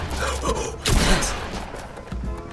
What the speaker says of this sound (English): Someone just got sniped.